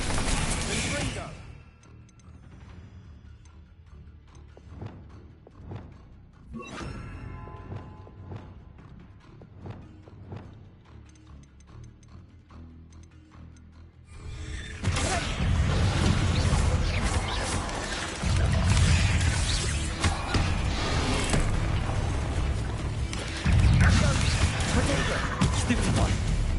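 Spell blasts and impacts from Hogwarts Legacy, a quiet stretch of scattered thuds and crashes giving way after about fourteen seconds to a dense, loud barrage of explosive magic and clatter.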